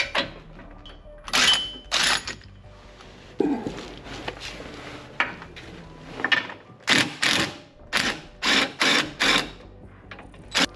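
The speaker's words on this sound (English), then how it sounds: "So I'm gonna go ahead and take this 30 mil bolt out right here." Ratchet and socket working a 30 mm bolt loose from a Land Cruiser torsion bar, giving repeated clicking bursts in short clusters with brief pauses between, close and fairly loud amid light workshop handling noise.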